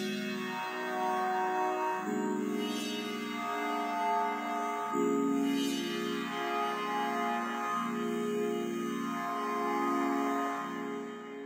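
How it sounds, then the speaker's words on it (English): A sustained synth pad from Serum for a smooth hip hop beat, swelling through chord changes that follow the track's progression, steady and full with regular rhythmic pulses underneath, heard alone without voices. "There was another pad that I had that I grabbed from Serum,"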